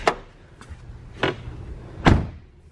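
On a 1996 Ford Mustang Cobra SVT, the hood is popped open in three sharp metallic clunks spaced about a second apart, with the last one loudest and close by, against a quiet background.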